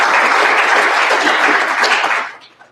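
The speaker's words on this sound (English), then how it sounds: "So I'd like to give them a round of applause." An audience at a speaker series event applauds steadily in a dense wash of clapping that fades out near the end.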